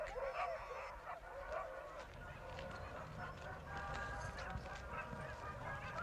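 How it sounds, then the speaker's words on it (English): Husky and related sled dogs at a European polar dog racing championship bark and yelp together as a busy, continuous chorus at moderate distance, with a faint voice underneath. "The dogs are huskies and related breeds, the hardy working dogs that have been used so successfully in the freezing conditions of the Arctic and Antarctic."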